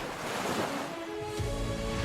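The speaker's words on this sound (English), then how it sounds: "Winter storms along the Namibian coast can be brutal, with winds over 80 miles an hour and huge waves" Storm surf and heavy wind batter the Namibian coast in winter, a dense, continuous roar of breaking waves with gusty wind rumble swelling louder near the end, no voices.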